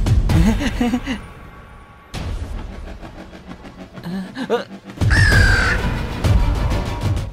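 A crow caws repeatedly and loudly at close range over busy background noise, with calls coming in several bursts.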